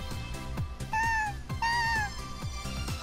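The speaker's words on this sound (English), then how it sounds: "It's a cute cat." A cat in the Megadimension Neptunia VII video game meows twice, two clear, drawn-out mews close together over a soft rhythmic background of game music.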